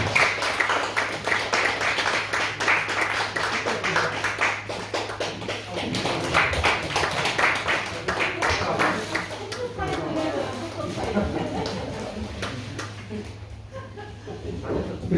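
A church congregation at an ordination service claps together in a dense patter of hand claps that fades after several seconds, with voices talking over and after it.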